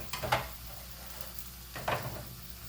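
Garlic, ginger and turmeric go into a pot of Eritrean vegan veggie stew: two soft scraping stirs over a faint steady sizzle, quiet and close, with no talking.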